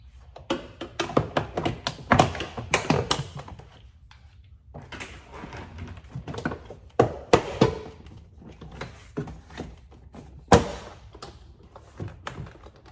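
Interior door panel of a BMW E90 being pried off, giving irregular bursts of sharp plastic clicks, taps and hollow knocks with short pauses between, close up.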